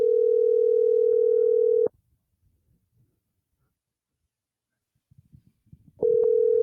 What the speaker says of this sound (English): We're calling the one, the only Sean Norris